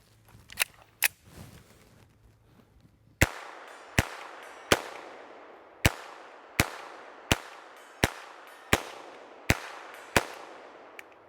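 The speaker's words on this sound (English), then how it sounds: "It's never recommended to shoot tracers through pistols" Tracer rounds fired from a pistol crack out as about a dozen sharp, loud shots spaced at an even pace, each with a short ringing tail, after two fainter pops near the start.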